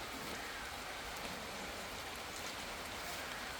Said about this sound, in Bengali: আমি আমার ঘরে আশা করছি বৃষ্টি পড়তেছে দেখছেন রাস্তায়